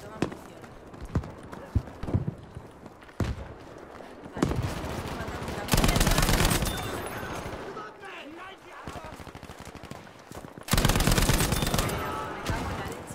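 Heavy gunfire in the shooter Battlefield V on the Lofoten map: bursts of rapid automatic fire and loud single shots arrive in dense clusters with short gaps, close and harsh, with a voice speaking over them.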